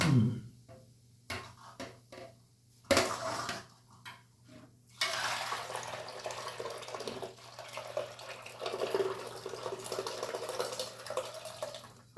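Water runs and splashes while fermented soybeans are rinsed for thua nao, with intermittent handling clatter early on, then a steady, close pour of water dominating the rest.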